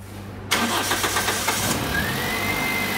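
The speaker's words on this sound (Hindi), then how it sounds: "गाड़ी स्टार्ट कर।" A car engine cranks and catches with a sudden loud burst, a few rapid starter-driven pulses, then settles into a steady close idle in a workshop during coil-on-plug diagnostics.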